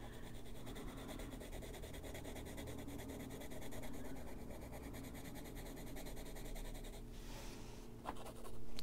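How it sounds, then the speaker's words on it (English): Scratchy colored pencil drawn across paper in steady back-and-forth strokes, a continuous dry rasping close to the ear, alone, ending in a few firmer scrapes. "This is a really scratchy pencil."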